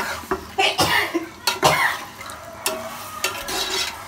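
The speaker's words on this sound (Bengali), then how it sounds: "গোশগুলো দিয়ে ভালোভাবে নাড়াচাড়া করে নিব।" Meat and spices stirred in a pan, with a few scraping strokes over a light sizzle, broken by a cough and some throat sounds nearby.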